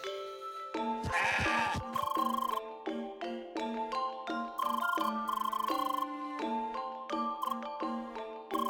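Goat in the video game CrossCode bleating repeatedly in short, bright electronic bursts, loud and close, with chiming tones and no speech.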